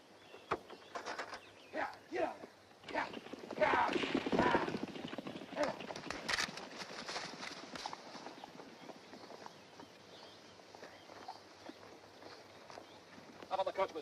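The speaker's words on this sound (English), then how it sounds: "Mr. Cobb, unhitch the horses." Horses clip-clop near a stagecoach in an old Western scene, with irregular hoof strikes and a brief whinny mixed among voices talking, the hoofbeats louder in the middle and quieter toward the end.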